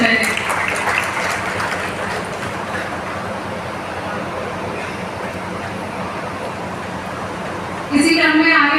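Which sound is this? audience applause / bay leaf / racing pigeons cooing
audience applause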